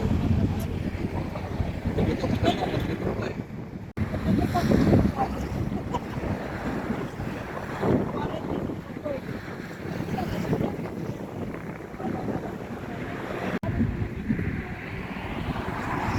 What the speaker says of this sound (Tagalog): Kaso lang malamig ang simoy ng hangin